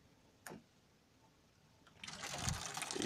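Tap water gushes into a laundry sink in an old house, starting after a brief click and then running as a steady, fairly close hiss and splash.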